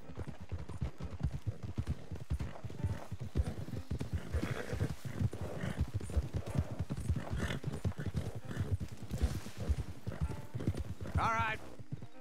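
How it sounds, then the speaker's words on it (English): Horses' hooves clop steadily in Red Dead Redemption 2, a dense, continuous run of close hoofbeats over a low background, with a brief whinny near the end. "Don't want the horses clopping around outside the window."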